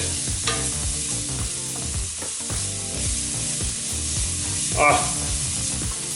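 Chopped onion sautéing in olive oil in a pan, a steady close sizzle broken by scraping stirs and clinks of a utensil, with a brief louder crackle burst near the end; no talking.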